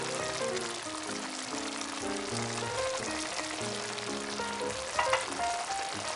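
Pork tail binagoongan with chili and pepper fries and is stirred in a pan, giving a steady close sizzle and occasional utensil scrapes under soft background music.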